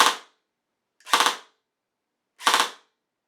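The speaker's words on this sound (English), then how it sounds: "when it's in burst mode, it will complete the 3 shots even if you just tap the trigger once" A G&G VFC VR16 airsoft rifle with an electronic trigger unit fires in burst mode, giving three short, sharp, evenly spaced bursts of rapid shots with silence between them, close and loud, no talk.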